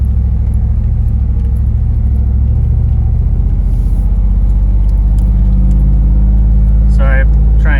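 An LT4-powered Jeep Wagoneer held in gear in manual mode gives a loud, close, steady engine drone that climbs as it is revved higher, with a voice speaking over it.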